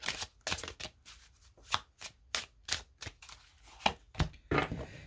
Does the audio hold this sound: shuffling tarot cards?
yes